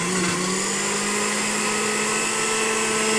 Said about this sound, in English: put in the blender or in the mixer for crushing till they become breadcrumbs